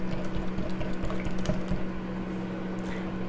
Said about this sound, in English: So we'll put the eggs in one at a time and then stir them